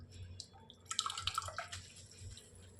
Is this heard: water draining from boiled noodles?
yes